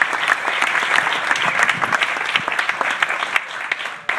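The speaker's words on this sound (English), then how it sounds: "Thanks so much for your round of applause." A crowd at a charity ride-for-kids event applauds steadily and fairly loudly, many hands clapping in a dense, even wash with a few sharper claps standing out near the end.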